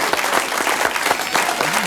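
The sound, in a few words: audience applause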